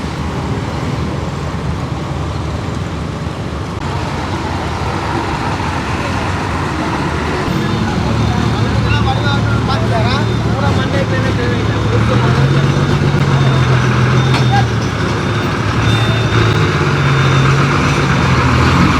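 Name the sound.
bus B40 arriving amid traffic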